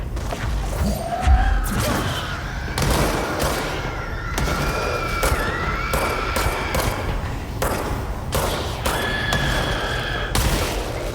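Gunfire and explosions in the video game Control: a dense run of sharp repeated shots and heavy thuds keeps going across the whole stretch, loud and close, with faint tonal game sounds underneath.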